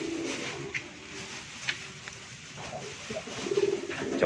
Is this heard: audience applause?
no